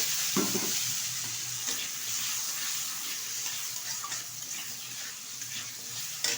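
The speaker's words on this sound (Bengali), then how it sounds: "আলুটা ভালোভাবে ভেজে নিয়েছি" Small peeled potato pieces frying in oil with turmeric powder, heard as a dense, continuous, even sizzle close up, with a few faint scrapes and clicks and no voices.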